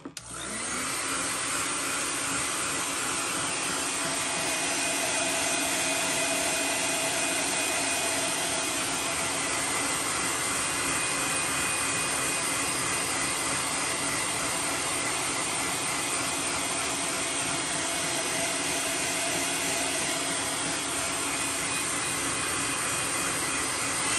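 A heat tool roars loud and steady for the whole stretch while it sets candy blood-red and copper custom paint on a crawfish fishing lure inside a paint booth. No one speaks over it.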